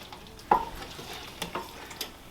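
A spoon works Manwich sauce into sloppy joe meat in a pan, making a few soft, close scraping strokes over a faint sizzle.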